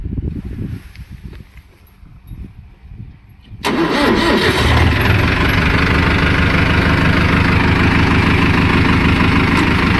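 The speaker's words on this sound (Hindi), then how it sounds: "बाकी दोनों लीवर नीचे करके आराम से अपन ट्रैक्टर चला रहे हैं। अभी स्टार्ट करते हैं" A 50-52 HP tractor on a farm fires up after a few quiet seconds of low background rumble, then settles into a loud, steady idle close by with a continuous diesel drone.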